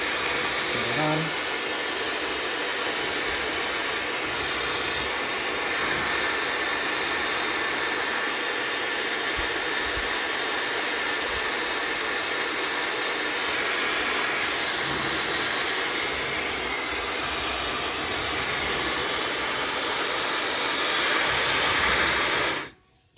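A Laifen hair dryer with a heating fault runs on cold air, giving a loud, steady high-pitched whine and airy hiss that holds for over twenty seconds before cutting off abruptly at the end.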